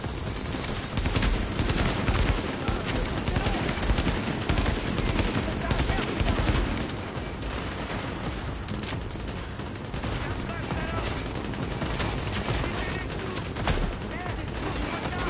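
Sustained gunfire from shooter game The Division, dense bursts of automatic weapons and overlapping shots firing continuously and loudly throughout, with some voice underneath.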